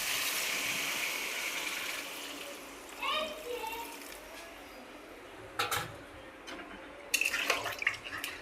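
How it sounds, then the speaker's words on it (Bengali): Water pours into a pan of egg and potato curry in a home kitchen, a steady running wash through the first few seconds, followed by quieter splashes and brief clatter with a voice faintly in the background. "এখন জলটা দিয়ে দেবো।"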